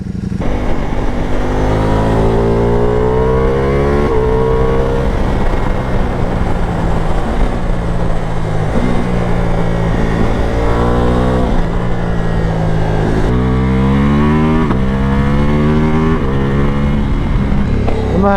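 A Ducati Multistrada V4 Pikes Peak with an Akrapovic exhaust and dry clutch, Race Evo setting, ridden hard: a loud, steady engine drone climbing and dropping through repeated rising pitch sweeps as it accelerates and shifts, close and continuous throughout.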